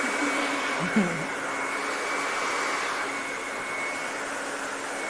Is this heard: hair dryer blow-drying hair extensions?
yes